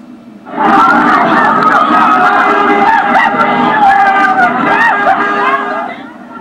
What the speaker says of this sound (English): A crowd of about 150 residents shouted murderers and obscenities while throwing objects at police near the site of the incident